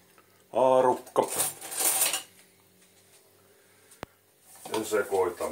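A fork clinks and scrapes against a dish while stirring an evening snack with salt and chives, several bright metallic bursts separated by pauses, with a voice speaking between them.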